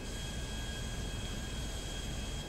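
Plane flying in GTA 5 Online: a continuous steady engine roar with a broad whooshing wind hiss and faint high whine, unchanging and fairly close, with no talking.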